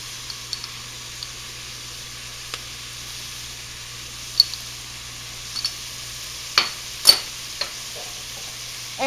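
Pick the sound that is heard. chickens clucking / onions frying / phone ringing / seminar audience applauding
onions frying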